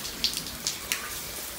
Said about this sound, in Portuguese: E agora, do nada, gente, começa a chover.